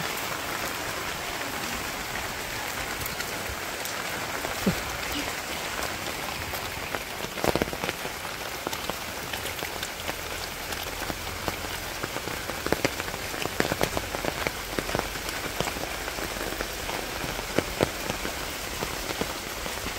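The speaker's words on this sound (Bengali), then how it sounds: "এই বৃষ্টি পড়ছে, অনেক সুন্দর বৃষ্টি আইছে।" Steady village rain falls on surfaces, with a dense hiss and scattered sharper drops and patters throughout, no voices.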